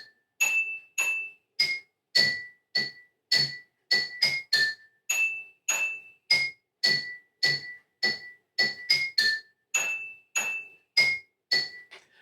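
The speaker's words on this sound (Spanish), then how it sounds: "Voy a tratar de tocarlo acá con los vasos de agua." Bright, bell-like notes struck on water-filled glasses, played as a repeating rhythmic tune of single pings and quick pairs, near and clear, no voices.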